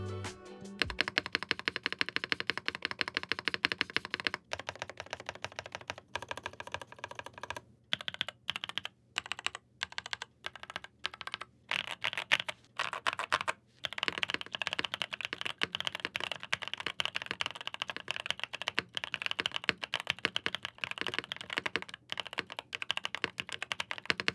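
Rapid, continuous clicking of keys on a mechanical keyboard, close up, with a few brief pauses between bursts of typing.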